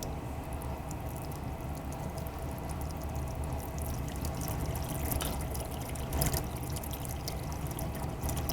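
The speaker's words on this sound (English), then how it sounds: "and just drain some of the water out." Water draining from an opened valve at the back of a ground water pump system, a steady continuous pouring rush with slight swells near the end, heard alone without talk.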